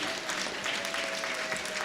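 An audience claps steadily and densely at a Black History Month celebration in Brooklyn, a continuous wash of applause for a public relations speaker being introduced, fairly loud throughout.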